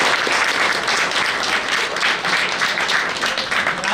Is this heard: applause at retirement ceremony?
yes